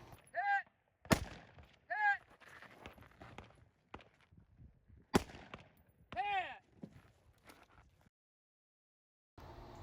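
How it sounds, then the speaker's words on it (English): Two sharp, loud rifle reports ring out several seconds apart as shots are fired through a window from a bipod during a rifle match stage, with other brief rattles and ringing tones around them. "Now to shoot through the window,"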